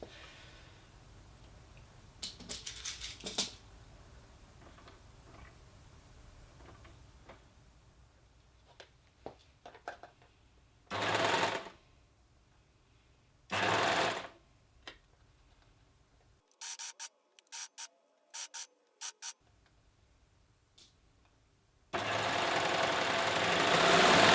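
A sewing machine stitches a 5/8 seam joining the panels of a tiered dress, running in several short bursts and then one longer steady run near the end, close by with no talking.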